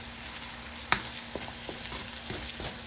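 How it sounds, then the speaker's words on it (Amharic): Ingredients sautéing in a pan for Ethiopian firfir, a soft continuous sizzle with a sharp clack from stirring near the start and lighter scrapes after it. "አሁን አቁላላለሁ ማለት ነው።"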